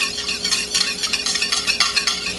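A spoon stirs half a cup of water into thick coconut milk, making a run of close, wet swishing strokes with light clinks against the bowl in an even rhythm, with no talking.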